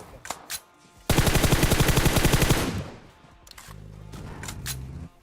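Automatic gunfire in a video game battle: a couple of single shots, then a long rapid burst of close, loud rounds for about a second and a half, followed by more scattered distant shots.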